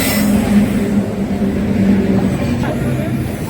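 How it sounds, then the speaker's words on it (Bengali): Howrah Azimganj Express rolls into platform 2 at Bardhaman Junction with a loud, steady low rumble and a droning hum, the sound of a train arriving. "চলে এলো আমাদের ট্রেন হাওড়া আজিমগঞ্জ এক্সপ্রেস"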